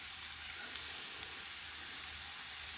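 Chopped onions frying in melted bacon grease over a medium flame, a steady, even sizzling hiss close by, fairly soft and unbroken for a few seconds.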